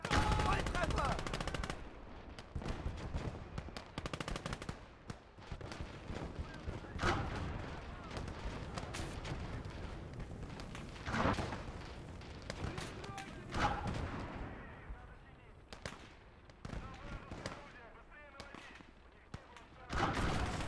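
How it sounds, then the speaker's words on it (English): Repeated heavy cannon blasts boom out at irregular intervals, loud and close, with sharp impacts and rumbling echoes between shots in a battle scene. "now I'll shut up for a second as we engage this Soviet armored column as it's coming our way with the Flak 88"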